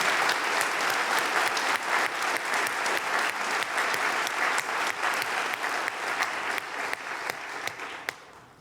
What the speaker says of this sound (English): let's give all of you a round of applause, a warm welcome from Oakland University